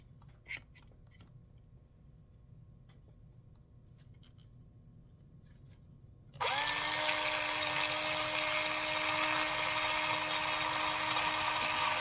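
A power drill with a 1/8 bit spins up into a pre-drilled hole, likely in a train caboose, after about six seconds of near silence, then holds a loud, steady whining buzz to the end.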